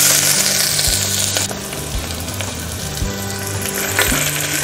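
Sliced onions fry for duck mappas, a steady loud sizzle filling the whole stretch along with a low rhythmic mechanical hum, and no one speaks.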